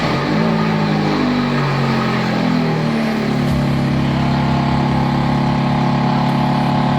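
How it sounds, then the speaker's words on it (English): A Vauxhall Corsa engine cranks and catches, settling into a steady, loud running drone with a strong low hum and no voices. "Let's give her a fire up."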